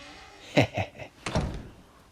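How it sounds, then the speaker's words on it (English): A door being opened at a doorstep for a pharmacy delivery: two quick, close thumps, then a longer clattering knock-and-rattle, with no talking. "Oh, I'll open the door."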